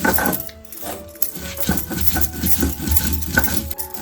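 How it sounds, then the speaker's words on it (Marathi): A spoon stirs and scrapes through food in a bowl while salt is mixed into a fish dish, with steady rhythmic tapping and clinking close by and no talking. "सर्व मीठ घालून घेतोय, व्यवस्थित मिक्स करून घ्यायचंय"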